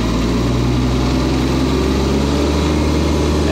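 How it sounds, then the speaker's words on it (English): A Kubota B2401 compact tractor engine runs loud and close, a rough diesel rumble that holds steady and then shifts in pitch toward the end as the throttle changes, with no voices. "If I increase the engine speed,"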